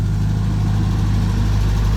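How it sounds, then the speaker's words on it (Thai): Close, loud car engine held at a steady idle with a slight lift in revs, a smooth unbroken drone from start to end. "ได้เร่งเครื่องอีกสักนิดหนึ่ง"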